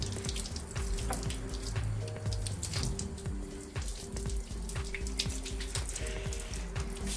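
Tap water running steadily while tiles are washed, a constant splashing rush with scattered clinks and drips, faint and close with no voices.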